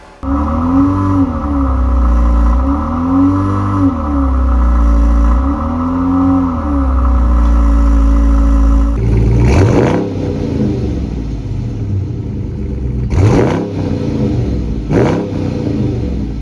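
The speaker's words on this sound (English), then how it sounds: "you got all that exhaust coming out, and you got that rumbling V8" Deep, throaty V8 exhaust rumble from a Dodge Charger R/T, loping and pulsing close by, then a few sharp blips of the throttle toward the end.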